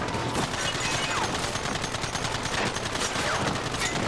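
Dense, continuous gunfire from Red Dead Redemption in West Elizabeth during a cavalry fight against a rampaging enemy, rapid shots overlapping in a loud, steady barrage with no pauses.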